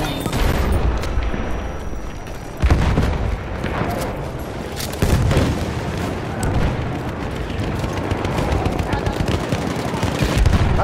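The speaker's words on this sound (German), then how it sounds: "Maschinengewehr, eindeutig feindlich." Sustained machine gun fire in Battlefield 1, dense rapid bursts with heavy booms mixed in, loud and close throughout a chaotic battlefield soundscape.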